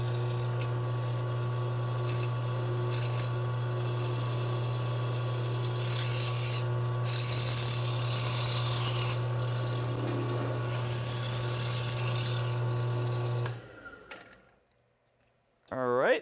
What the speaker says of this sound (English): let's drill. We're going to drill straight through all the way.